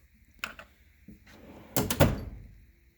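A drawer is yanked open and shoved shut during a search for a flashlight, giving a few soft thumps followed by a louder rattling slide and knock, nearby.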